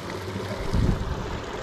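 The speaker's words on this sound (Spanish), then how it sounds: "Por acá pasa el arroyito." Small hot-water stream near Tuzgle volcano, a soft continuous rushing and trickling close by, with a brief swell of louder gurgling midway.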